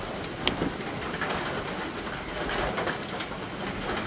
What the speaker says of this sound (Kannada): ಮಳೆ ಜೋರೈತಿ